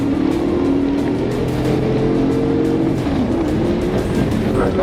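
A Dodge fleeing police at high speed on Martin Luther King Jr. Drive, its engine roaring steadily and loudly throughout with a dense, continuous road and wind rush and no speech.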